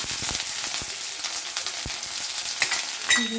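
Garlic and chopped onion sizzle steadily in hot oil for a vegetarian dal, a dense continuous frying hiss with a few soft clinks of stirring, close and fairly loud with no talking.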